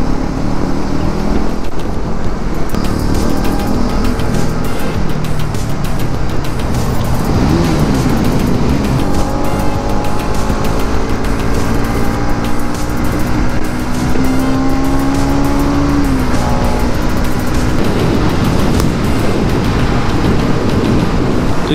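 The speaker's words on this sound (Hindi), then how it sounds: "डोमिनार का जो एग्जॉस्ट का जो वो बेस जो सुनाई देता है ना, बहुत बढ़िया लगता है और डबल बैरल है" A Bajaj Dominar 400 motorcycle with a double-barrel exhaust is ridden at full throttle through traffic toward Dakshineswar. The engine drones loudly and rises in pitch through the gears, with road noise throughout.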